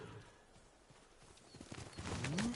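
Horse hooves clip-clop in the open-world samurai game Ghost of Tsushima, a quiet trotting rhythm that grows louder and busier toward the end, with a brief tonal game sound rising at the close.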